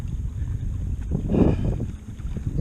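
Wind gusts over a lake as a storm approaches, a steady rushing roar against the microphone that swells into a stronger gust midway before settling back.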